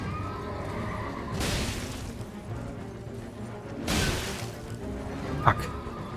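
A horse neighs during a mounted boss fight against the Night's Cavalry in the video game Elden Ring. Two loud, breathy whinnies come about two seconds apart over steady battle ambience, with a sharp ringing hit near the end.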